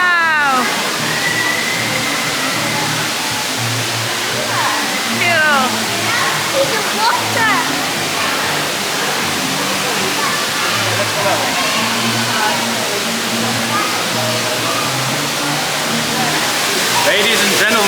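An indoor waterfall at Center Parcs pours in a loud, steady rushing roar that fills the space, with faint chatter and echoing voices blurred beneath the constant flow.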